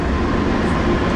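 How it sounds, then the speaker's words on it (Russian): A train passes close by near a pedestrian crossing at a beach town, giving a loud, continuous, broadband rumble throughout with no speech. "Вот проезжает поезд."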